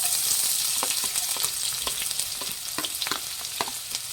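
Chopped onion frying in hot oil with popped mustard seeds, cumin and curry leaves: a steady, close sizzle with scattered sharp crackles and spatters throughout.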